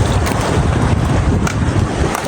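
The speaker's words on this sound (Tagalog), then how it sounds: "Hindi na tumigil yung malakas na hangin." Strong wind buffets the microphone with a loud, continuous rumbling roar, gusting unevenly without pause.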